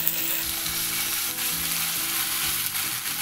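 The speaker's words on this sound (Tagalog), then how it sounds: "And then, i-add natin dyan itong ating corned beef." Corned beef and a clove of garlic sizzle steadily in a pan. The frying is loud and close, with a continuous hiss and scattered stirring scrapes.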